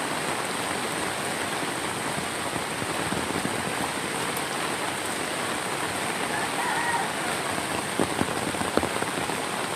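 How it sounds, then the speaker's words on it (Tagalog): Steady rain pattering on surfaces during a typhoon, with chickens somewhere nearby and a few faint clucks barely standing out from the dense, constant hiss of falling water. "maraming mga manok dyan"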